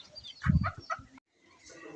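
Harsh, agitated squawks and clucks from a mother duck after being bitten, in a short burst, close by, then a brief silence followed by faint background noise.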